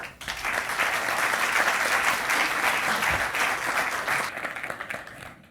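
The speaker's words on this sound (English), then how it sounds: "So don't just clap, help, okay?" Audience applause at a Microsoft Silicon Valley talk on data sharing and analytics, a steady dense wash of clapping that swells quickly, holds for about four seconds, then thins and tapers off.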